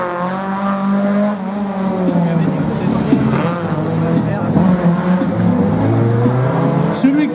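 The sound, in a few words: rally car racing through a slalom course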